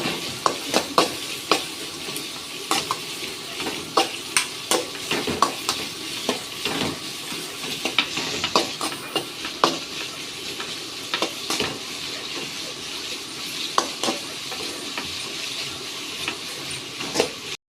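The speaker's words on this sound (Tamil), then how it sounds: "இந்த வெங்காயத்தை போட்டுருவேன். நல்லா வதக்கிக்கிடணும்." Four chopped onions sautéing in a pan for a chicken stuffed parotta filling, with a steady close sizzle broken by frequent sharp spoon-and-pan scrapes and clicks in an irregular stirring rhythm, no talk.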